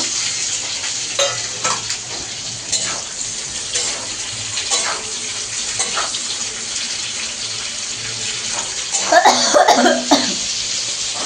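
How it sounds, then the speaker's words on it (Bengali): Onions frying in a pan while being stirred, a low steady sizzle with intermittent scraping strokes of the spoon, plus a brief louder burst of clatter near the end; no talking. "পেঁয়াজটাকে ভালো করে কষাবে"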